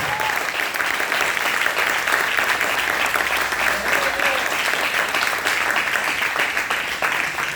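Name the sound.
congregation applause in church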